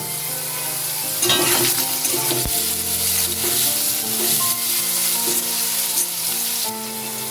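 Small diced potato pieces fry in oil until browned, with a loud, close, continuous crackling sizzle and occasional scraping stirs and clinks of a utensil against the pan; no voices.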